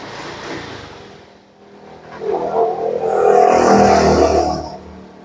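A 2019 Honda Beat scooter with a throttle that won't drop back down, its engine idling low and then revving up into a loud, sustained rising whine before easing off, close by and with no voices.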